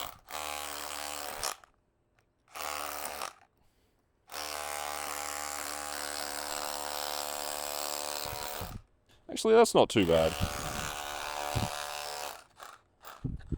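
A Milwaukee M12 cordless hammer drill whines loudly in long sustained bursts separated by pauses while drilling into rock, followed by rougher grinding bursts in hammer mode, and a person briefly speaks between them.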